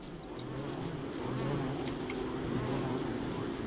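Bees buzz in the video game Don't Starve, a steady droning hum that swells slightly and continues throughout under faint ambient noise.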